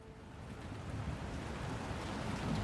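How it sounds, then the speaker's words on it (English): Rain pours down during a storm over city streets in Memphis, Tennessee, a dense steady hiss of heavy rainfall with low rumbling underneath, gradually swelling in loudness. "Storm clouds gather as rain pours down into the streets of Memphis, Tennessee."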